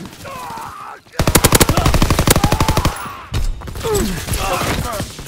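Loud sustained bursts of suppressing machine-gun fire in Call of Duty WWII, a rapid rhythmic volley of about two seconds between sharper shots and battlefield clatter, with distant shouted voices mixed in.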